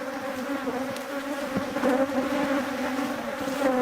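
Bees buzz steadily around an open beehive during an inspection, a close, continuous droning hum with individual bees flying past the microphone.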